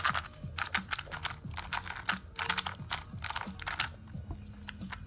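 An X-Man Wingy Skewb twisty puzzle, dry and barely lubricated, is turned rapidly. Its quick, close plastic clicks and clacks come in short flurries, with no voice over them.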